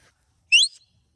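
A single short, sharp rising whistle used as a lie-down command for a working Border Collie herding sheep, clear and close against otherwise near silence.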